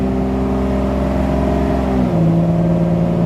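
A Mercedes SL600 engine revs up close and loud, its steady drone climbing, then dropping sharply in pitch at a gear change before pulling on again.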